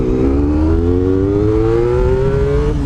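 A Honda RVF 400 motorcycle with a quick-action throttle revs close and loud, its engine tone climbing steadily in one continuous rising pull, with no pause and no voices.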